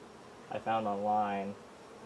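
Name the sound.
honeybees buzzing around an opened hive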